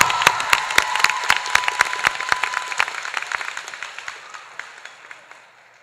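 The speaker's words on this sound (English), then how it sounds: "Please join me in applauding both of these students for their hard work" Audience applause at a high school graduation ceremony, sharp scattered claps near the start that gradually thin out and fade over several seconds.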